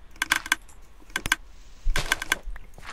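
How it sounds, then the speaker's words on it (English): Bursts of rapid mechanical clicking from a Minecraft contraption, in clustered ticks separated by short pauses, fairly close and crisp with no talk. "I hear a bunch of clicking, but it's not dispensing any villagers."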